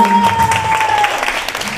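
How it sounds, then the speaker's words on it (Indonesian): A student audience claps loudly at a school Qur'an presentation during Ramadan, giving a short, dense burst of applause. "Tepuk tangannya dulu dong."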